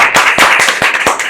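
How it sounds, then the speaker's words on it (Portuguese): Audience applause in a podcast studio: a brief burst of steady clapping from several people, close and fairly loud, with no talking over it. "Hoje os aplausos vêm antes do final"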